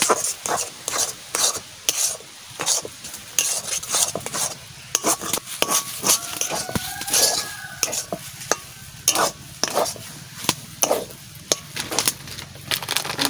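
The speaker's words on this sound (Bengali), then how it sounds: "এবার শুধু নাড়তে থাকতে হবে।" Semolina halwa stirred in a pan, a steady run of scraping, clattering spoon strokes with a faint sizzle beneath, close and fairly loud with no voices.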